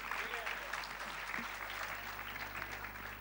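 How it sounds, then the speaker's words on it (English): An audience at a movie trailer launch event applauds a young singer, giving sustained, even clapping heard at moderate distance over a constant low hum, with faint voices mixed in. "Please give him a huge round of applause."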